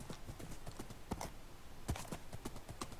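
Horse galloping in the video game Minecraft, quick rhythmic clip-clop hoofbeats repeating steadily, moderately close over faint background noise.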